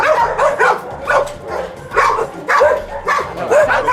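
Dogs at an animal refuge bark and yip in repeated bursts, loud and close, with short whimpering yelps between the barks.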